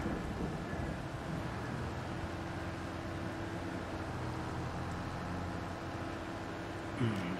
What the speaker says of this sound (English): rain's well and truly here at the moment